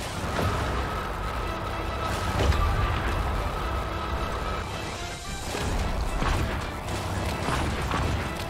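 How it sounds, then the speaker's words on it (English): Superlaser firing in the Worbital space game, a sustained loud mechanical roar with crashing, grinding texture and a steady tone running through it, swelling and easing over several seconds. "I have a laser ready for you, 3, 2, 1, firing"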